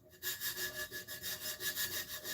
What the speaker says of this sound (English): I use a nail file.